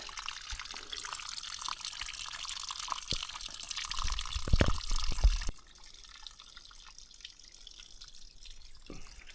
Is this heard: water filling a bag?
yes